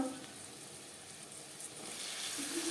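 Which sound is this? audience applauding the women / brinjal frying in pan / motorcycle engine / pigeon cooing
brinjal frying in pan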